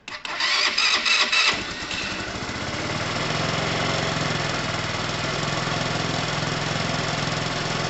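A moped engine, held on the brake, cranks with rapid sputtering pulses, fires up, then settles into a steady, close idle that drones on.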